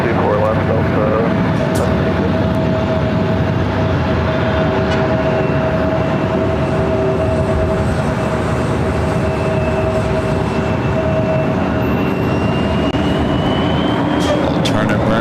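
Heavy jet airliner rolling for takeoff on runway 24 Left at LAX, a steady loud engine roar with a sustained whine running through all fifteen seconds, with radio chatter faintly mixed in.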